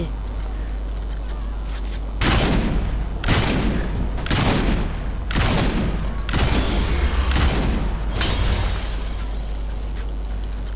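Bursts of gunfire in the video game Saints Row IV, a run of about seven loud volleys spaced a second or so apart over a steady low background hum, with no talk during the shooting.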